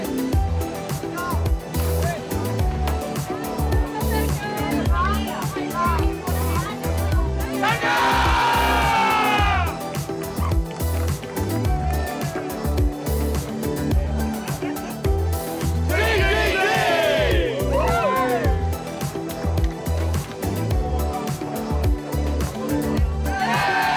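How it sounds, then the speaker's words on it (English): Crowds at King's Pier Marina in Hobart greet an arriving racing yacht, their cheering and shouting layered over steady music, with loud bursts of whooping rising twice before settling back into the busy waterfront din. "there are celebrations all round, saluted by the enthusiastic crowds enjoying this yachting spectacular"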